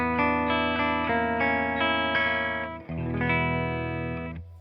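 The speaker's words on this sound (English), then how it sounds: "here's the clean tone of the deluxe reverb." Clean electric guitar chords ring out through a Deluxe Reverb amplifier, strummed several times with a slight effect shimmer, then a final chord sustains and fades.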